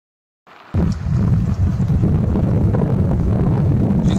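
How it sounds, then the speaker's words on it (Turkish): Strong wind gusts roar and buffet steadily after a brief quiet start, a loud, constant rush filling the whole clip. "Rüzgar arttı."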